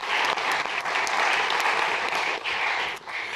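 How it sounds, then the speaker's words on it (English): People at a community association annual general meeting clap for volunteers, giving a brief, full round of applause with a dense patter of hands and a few small dips in loudness. "So let's just give one more round of applause for all of our volunteers here"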